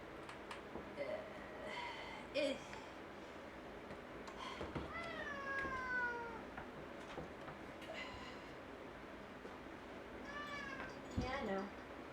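A cat meows indoors in several short, fairly quiet calls scattered through the clip, under someone talking.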